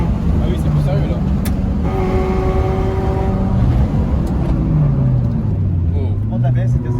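A Peugeot 206 S16 engine with a modified exhaust gives a loud, rally-style drone, its pitch rising and falling with revs, while a person talks over it close by.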